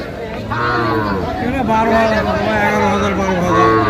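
Several cattle, including bull calves, low and moo in long drawn-out calls, loud and close, with a busy crowd murmuring in the background at a cattle market.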